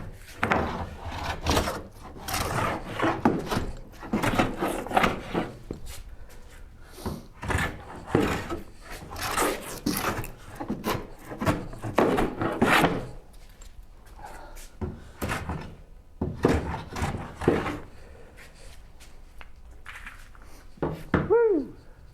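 Hand plane shaving wood for a Shaker Enfield cabinet, repeated loud rasping strokes in an irregular rhythm, close by, with short gaps between passes.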